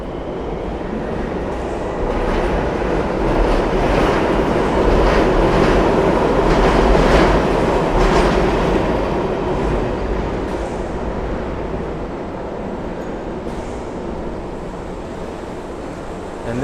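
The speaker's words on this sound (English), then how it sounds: "And this over here is the Miami Metro Mover." A Miami Metromover train passes through downtown Miami, its rumbling, whooshing rail noise swelling loud and close over several seconds, then easing off as it moves away, with a faint clack or two late on.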